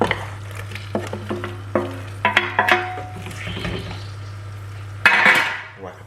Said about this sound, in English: So we're going to put in the pot with the onion and the garlic.